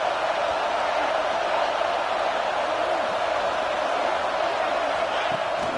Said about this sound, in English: This offense trying to quieten the crowd on first and goal, and they are not cooperating.